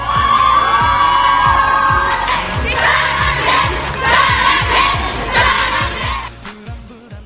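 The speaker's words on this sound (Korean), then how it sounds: "그들이 탄 차가 도착하자 팬들이 환호하기 시작한다." A crowd of fans cheers and shrieks continuously as a band's car arrives, loud and close, with rhythmic thumping underneath and the roar swelling and easing.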